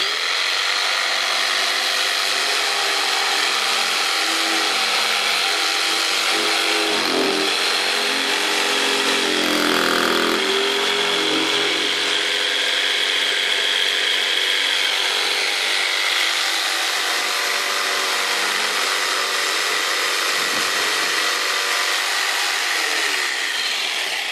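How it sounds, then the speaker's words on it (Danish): A saw cuts steadily through oak to clear a mortise for a raised garden bed, a continuous loud rasping buzz that holds for the whole stretch with a brief dip in the middle. "Når jeg saver udstemningen ud, så gør jeg det fra bagsiden"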